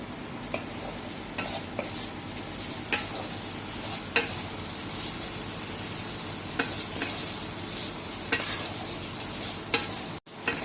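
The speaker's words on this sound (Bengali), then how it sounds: "নামানোর আগে একটু ঘি দিয়ে নাড়ি চাড়িয়ে আমরা নামিয়ে নেব" A vegetarian banana-flower curry (mocha ghonto with chickpeas and lentil dumplings) sizzles steadily in a pan after ghee goes in, while a spatula stirs and scrapes it with repeated sharp knocks against the pan, up close.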